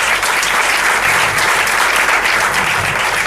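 A church congregation applauds in dense, sustained clapping that fills the space loudly and evenly throughout.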